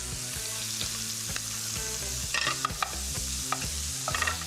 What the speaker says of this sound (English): Now that bacon's getting really nice and crispy